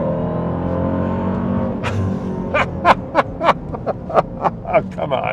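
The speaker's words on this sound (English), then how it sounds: "There's the supercharger whine. There's the exhaust roar." A Dodge Durango Hellcat's supercharger whines under a low rumbling exhaust, then the engine roars in a series of sharp revving bursts, loud and close, with a brief spoken remark over it.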